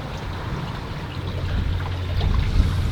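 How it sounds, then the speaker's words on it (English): Water flows and drains steadily out of a temporary tank, a continuous close rushing trickle with a low rumble underneath, alone without talk. "Water's going somewhere anyway, it's draining out of this tank."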